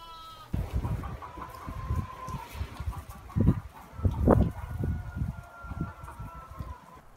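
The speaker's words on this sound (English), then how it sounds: "Here I have a ewe in labor." A ewe in labor in a farm flock, giving a few low, strained bleats and grunting calls over rustling straw and shuffling, with a faint hum in the background and no talk.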